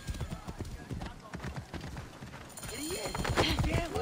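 Horse hooves clip-clop in Assassin's Creed Origins, a quick steady patter at moderate distance that runs throughout and grows busier and louder near the end, with voices talking over it.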